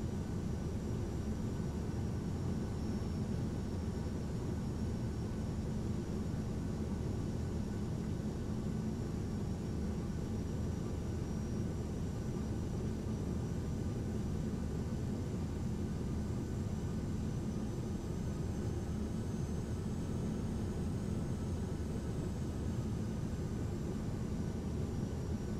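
Steady, loud engine roar and broadband rushing noise of a Ryanair Boeing 737-800 touching down at Liverpool John Lennon in a flight simulator, constant throughout with no talk.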